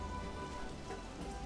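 Rain falling in the video game Wildlife Park 3, a steady, soft hiss of rain on surfaces with no talking.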